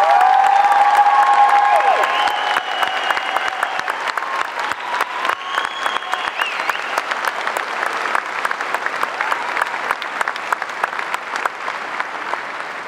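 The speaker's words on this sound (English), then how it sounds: "let's give them one more round of applause." Applause and cheering for the Central High School class of 2014 at a graduation ceremony: a large crowd clapping steadily with scattered shouts and whoops, loud and sustained, voices prominent early and claps crisp throughout.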